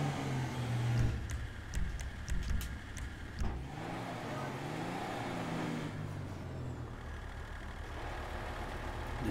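A big truck in GTA 5, modded with real drift and 4x4 handling, with a low rumbling engine that drones steadily, a few sharp clicks and a brief rising-falling engine sweep partway through, fairly quiet overall.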